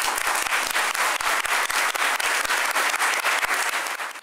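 Dense, loud applause fills a council chamber for the outgoing mayor, a sustained wash of many hands clapping with a few sharper claps standing out, close and continuous.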